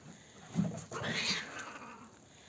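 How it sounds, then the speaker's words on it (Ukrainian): Cats in a spring territorial fight yowl and caterwaul in a short, rising, strained cry outdoors in a garden, heard at moderate distance with no talking. "Весняні розбірки котів."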